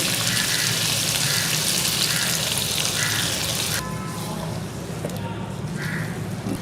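Half a cup of water pours with a steady hiss into a pot of sizzling fried potatoes, the frying sound shifting partway through as the liquid goes in.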